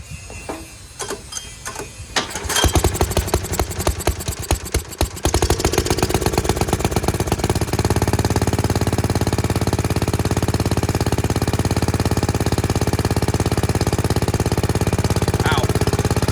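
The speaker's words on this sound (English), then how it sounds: "Went from having no hope in that carburetor to it firing right up." A 1970s three-wheeler's small engine cranks in sputtering pulls, then fires up and settles into a steady, loud, rapid idle after a carburetor fix, running close by for the rest of the time.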